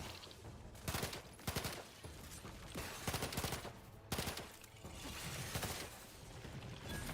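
Rapid pistol fire in the video game Outer Worlds 2 comes in repeated sharp bursts of shots, some close together and some spaced apart, over a busy combat background.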